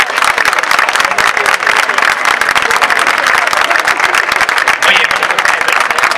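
Crowd applauding at a political campaign event in Badalona, loud, continuous clapping from many people, with a voice briefly heard over it.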